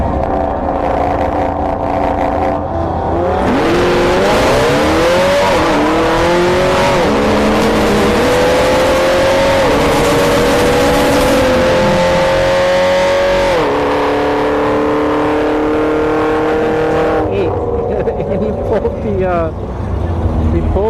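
The Aero SS drag race car of TGS Racing launches and accelerates hard down the strip at Bradenton Motorsports Park, its engine climbing through several rising shifts, loud and close, with an announcer talking over it.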